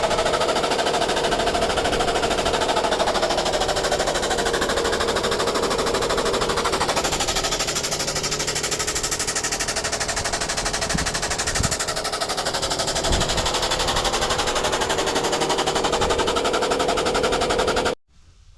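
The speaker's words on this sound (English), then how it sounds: "I fired up the air compressor, and then that can run the press, the hydraulic press, and it can press these ends flat" An air compressor runs steadily to power a hydraulic press that flattens metal ends for custom gates. The loud, continuous machine noise fills the whole stretch, with faint clunks partway through, before it cuts off abruptly at the end.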